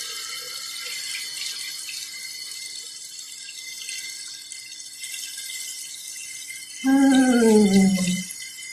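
Tap water runs into a bathroom sink for about a second and a half near the end, a close, steady gush with a rising pitch as it fills, after a stretch of faint background hiss.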